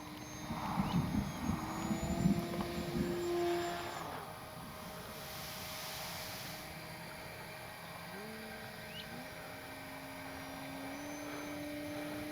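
An E-flite Cherokee RC model plane, a civilian general aviation style scale aircraft, flies a knife edge pass at an RC field, its electric motor whine rising and falling in pitch, louder early on and then steadier and more distant.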